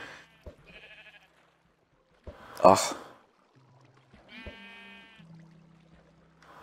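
Sheep in the Xbox 360 edition of Minecraft give a few short, nearby bleats at the start and again later, with a player's brief groan and breathy sound in between.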